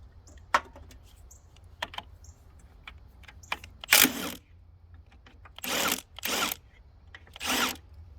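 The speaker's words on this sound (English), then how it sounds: "got a wrench on the other side, just spinning" Wrench working a stuck, spinning bolt on a Honda CT70 motorcycle frame during a build, heard as scattered sharp metallic clicks and ticks with several louder broadband rasping bursts, close and alone without talk.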